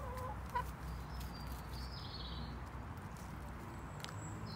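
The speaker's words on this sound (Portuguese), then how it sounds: "Tá parecendo que eu tô no Brasil, hein? Galinha no quintal." A backyard chicken clucks faintly now and then against steady outdoor ambience, with a brief sharper call early on and no talking.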